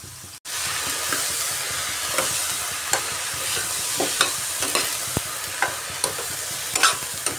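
Cucumber is sautéed in a pan, with a continuous sizzling hiss and scraping stirs against the metal at a fairly regular pace.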